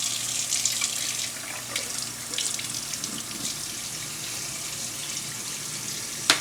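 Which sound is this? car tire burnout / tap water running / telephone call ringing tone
tap water running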